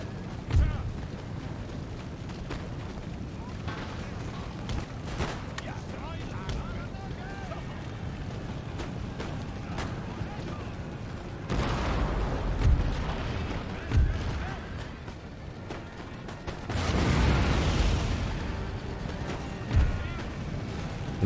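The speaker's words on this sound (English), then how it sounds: "And we can get back on the cannons." Cannon artillery in the video game Empire: Total War fires in several spaced booming shots over steady wind and battle ambience, with a few louder blasts near the end and no clear talk.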